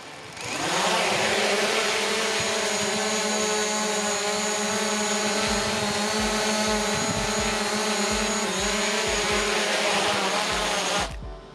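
A DJI Mavic Pro drone fitted with add-on landing gear lifts off from the ground. Its propellers give a loud, steady, high buzzing whine that starts abruptly, holds evenly for about ten seconds, then cuts off.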